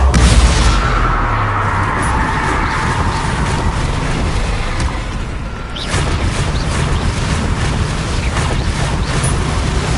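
A Bombarda spell explosion in Hogwarts Legacy, a loud booming blast followed by a sustained roaring rumble, with a second surge of blast noise partway through.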